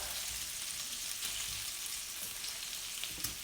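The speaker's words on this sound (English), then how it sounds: "I'm gonna put these over in this hot grease and just let them brown up" Potatoes fry in hot bacon grease in a pan alongside cooking bacon, a steady bright crackling sizzle that holds evenly throughout, close and with no talking.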